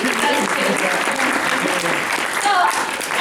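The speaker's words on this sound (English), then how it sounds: "Clap." Theater audience applauding at a college musical performance, a continuous wash of clapping with voices and cheering mixed in throughout.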